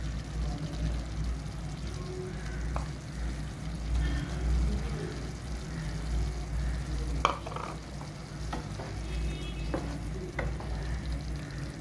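Paneer goes into a thick paneer butter masala gravy in a pan, a steady low bubbling simmer with a few light clinks and soft splashes scattered through.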